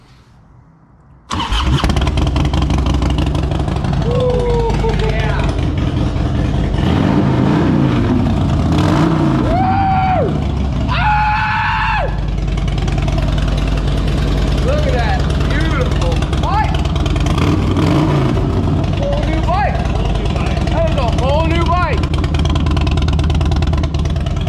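A Harley Road Glide motorcycle with new Stealth exhaust pipes runs loud and close for most of the time, a deep steady engine rumble with rises in revving, as people talk over it.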